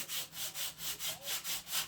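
Sandpaper rubbed crosswise over the rounded hull of a wooden model ship, a steady back-and-forth rasp in about seven even strokes, close and alone.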